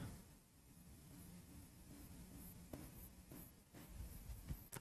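Chalk or marker writing on a board during a history lecture, faint scratchy strokes with a few short taps, heard quietly against room hiss and no talking.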